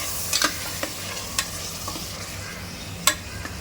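Spices sizzle softly in a hot pan while a utensil stirs and scrapes, with a few sharp clicks of metal on metal over a steady low fry, while cooking bhindi mutton.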